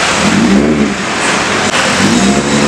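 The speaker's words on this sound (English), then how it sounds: "we have a Hyundai Genesis with a quad tip exhaust. And the sound is fucking badass." A Hyundai Genesis fitted with a quad-tip exhaust revs loudly and close up, its engine roaring steadily with rising and falling pitch and no voices.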